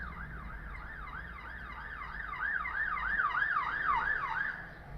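A video game police siren wails, sweeping up and down in a fast, repeating yelp, growing a little louder midway, with no talking.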